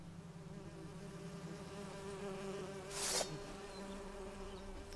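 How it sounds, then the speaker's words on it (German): Insect-like buzzing of bees in The Witcher 3 hums steadily over a continuous game ambience, with a brief brighter burst near the middle; no one speaks. "Aha, jetzt müssen wir Bienen hauen."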